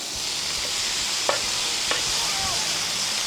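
Carne asada sizzling as it cooks at a campsite: a steady close frying hiss throughout, with a couple of brief clinks or scrapes from stirring.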